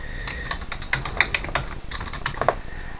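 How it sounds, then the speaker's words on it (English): Computer keyboard typing the words "breaking news" into a page editor, a quick run of crisp, close key clicks with a few louder taps, steady and uninterrupted with no talking. "So let's type in there breaking news."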